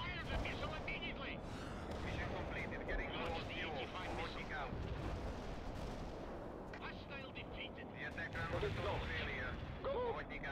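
Anti-tank strike explosions in the video game World in Conflict, a dense roar of blasts and gunfire rumbling continuously, with voices talking over the battle.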